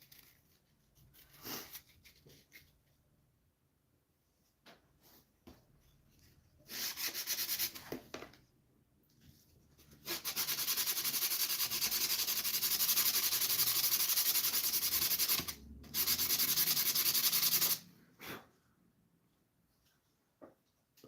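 Sanding on a handmade guitar body in a workshop: loud, steady abrasive rubbing in long sustained passes, with short scratchy strokes and pauses between.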